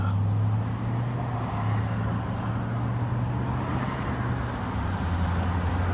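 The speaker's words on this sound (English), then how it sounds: "There's a lot of cars out here, Joe." Steady road traffic rumbles outdoors on a busy street, a continuous low drone of passing cars at moderate distance with no single vehicle standing out.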